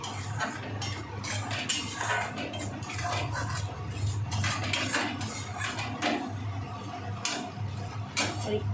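Spices frying in a pan as a metal utensil stirs them, with repeated clinks and scrapes against the pan in a quick irregular rhythm over a constant low sizzle, close and fairly loud, with no talking.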